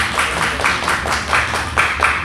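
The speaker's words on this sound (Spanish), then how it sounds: "Un aplauso." A small audience clapping together at a talk, a brief burst of rhythmic hand claps, close and fairly loud, with no speech over it.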